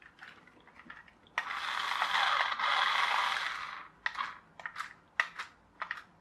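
A 27 MHz radio-controlled toy car's steering mechanism whirs in one sustained buzzing burst, then gives several short clicky whirs as it turns back and forth, close and fairly quiet, with no talk.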